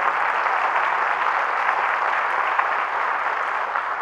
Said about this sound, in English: you can applaud for that, absolutely.